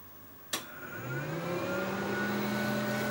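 Cooling fan of a Fujifilm Lanovia C-550 professional flatbed and transparency scanner switching on with a click, then spinning up into a steady, loud whirring hum that holds for the rest of the clip.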